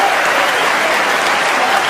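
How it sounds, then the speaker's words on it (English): Sustained applause from a snooker crowd at the World Championship final, steady and dense throughout, honoring the match referee. "I think she deserves a round of applause for that"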